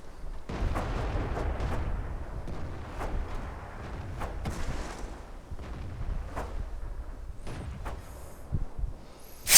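Tank cannons firing in the World of Tanks video game at Prokhorovka, a run of sharp booming shots with rumbling aftermath spread across the clip, fairly loud, with no speech.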